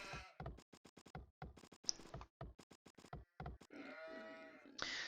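Sheep in the video game Age of Empires II bleat in a quick series of short, clipped calls with brief gaps between them, followed by a longer, smoother game sound effect near the end and no talking.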